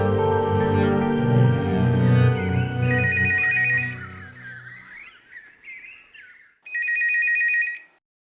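Telephone ringing unanswered in a household, with repeated electronic ring bursts over background music, then a pause before another loud ring.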